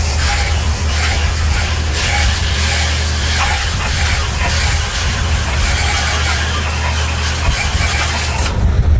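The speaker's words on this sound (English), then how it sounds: "just spray it down with your normal water hose." A garden hose sprays water onto the fins of an AC heat pump, a steady close hiss that runs unbroken and loud before cutting off near the end.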